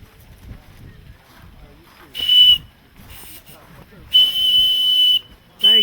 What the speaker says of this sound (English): Got enough steam to blow your whistle?